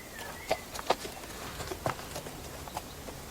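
A horse walking at a relaxed pace during a break between riding sessions, hooves clip-clopping in an irregular rhythm of soft knocks at moderate distance, with light outdoor background and no talking.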